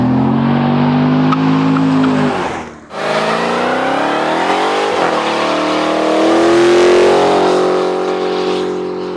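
A 2017 Chevy Corvette Grand Sport engine revving loudly through a corner, close and sustained, dropping briefly as it shifts, then climbing and holding a strong roar before easing off.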